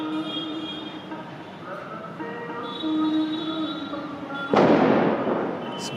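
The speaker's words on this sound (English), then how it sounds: "Some fireworks left over from Diwali." Leftover Diwali fireworks go off near a Sikh gurdwara in Pushkar, Rajasthan, with one loud sharp blast near the end standing out over a steady drone of mixed ambient noise and tones.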